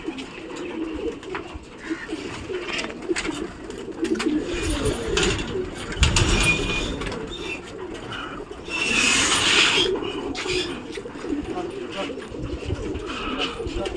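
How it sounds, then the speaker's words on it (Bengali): Pigeons coo softly in a steady low murmur inside a netted pigeon shelter, with rustling, scraping and occasional nearby voices in the background. "তো আরও কিছু পায়রা উপরে আছে নামানো হচ্ছে"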